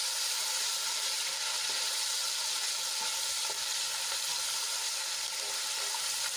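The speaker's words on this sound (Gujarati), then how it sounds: "આદુ લસણ અને મરચાંની પેસ્ટને આપણે સાંતળી લઈશું" Ginger, garlic and chili paste sizzles in hot oil, a steady crackling hiss with occasional stirring.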